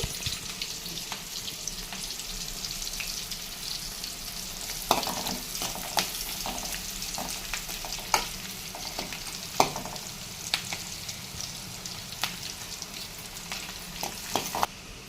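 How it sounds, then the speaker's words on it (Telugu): Two red chillies fry in hot oil for a tempering until browned, a continuous close sizzle and crackle with occasional stirring clatter and sharp pops throughout, no talking. "రెండు ఎర్ర మిర్చి ఇలా ఎరక్కొట్టుకోవాలి బాగా బ్రౌనిష్ వచ్చేదాకా ఎత్తుకోవాలి"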